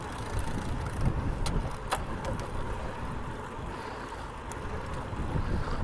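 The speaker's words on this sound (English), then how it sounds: "A lot of wind behind me." Wind buffeting a cyclist's microphone while riding outdoors, a continuous low roaring rumble with gusty swells and occasional faint clicks, with no talk.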